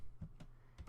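Brief bursts of typing on a computer keyboard during a programming session, three or four quick key clusters close to the microphone with no talk over them.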